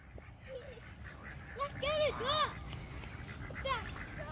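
Ducks quack and a goose honks in short, scattered calls at moderate distance outdoors, with a few bursts clustered together amid background noise and faint voices.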